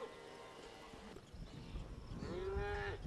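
Cattle being herded on foot low with a deep, drawn-out moo close by at the end, above a steady outdoor rumble with faint hoof sounds.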